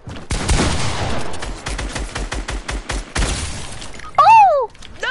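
Rapid bursts of gunfire crackle through a console shooter firefight, a dense volley followed by a run of evenly spaced shots, then a sharp whistling, warbling effect near the end; loud and close, with no talk over it.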